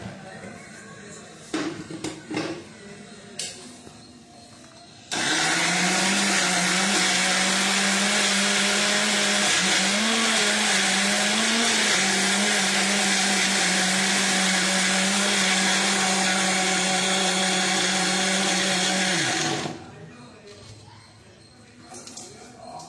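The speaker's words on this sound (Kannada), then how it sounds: "ಇವಾಗ ಇದನ್ನ ಮಿಕ್ಸರಲ್ಲಿ ಒಂದ್ಸತಿ ಚೆನ್ನಾಗಿ ಮಿಕ್ಸ್ ಮಾಡ್ಕೊಳ್ಳೋಣ, ಗ್ರೈಂಡ್ ಮಾಡ್ಕೊಳ್ಳೋಣ" A kitchen mixer grinder blends paneer with milk, a loud, steady whirring roar that runs for about fifteen seconds with a slight pitch wobble, then cuts off, with brief faint handling noises before and after.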